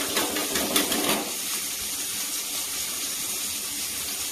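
Homemade sour yogurt whisked with a little water in a bowl, giving a brisk, close, wet rhythmic beating that fades into a softer steady churn.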